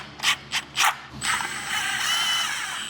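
A ratchet tightening the oil pan bolts on a Mercedes G Wagon: three short, close ratcheting bursts, then a longer steady whirring mechanical rasp.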